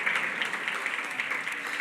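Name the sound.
audience applause for HACR board chair Margaret Moran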